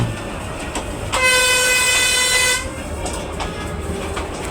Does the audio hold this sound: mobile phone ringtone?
no